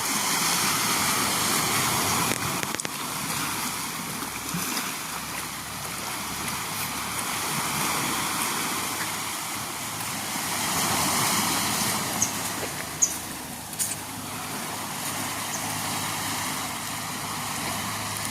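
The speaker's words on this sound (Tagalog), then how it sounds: "Medyo tahimik ang dagat ngayon." Calm sea waves wash steadily against nearby rocks, a continuous soft rushing of water with light swells rising and falling and no talking.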